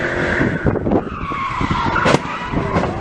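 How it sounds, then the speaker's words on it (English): Tires on a Mustang squeal and skid loudly during burnouts, a continuous high screech over engine roar with a sharp burst near the end, just before the car crashes. "a guy who totally wrecks his Mustang while trying to do burnouts"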